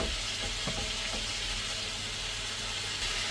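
Pancit habhab noodles in Quezon style are stirred with broth in a hot pan, a continuous loud sizzle and hiss with faint scraping of the stirring.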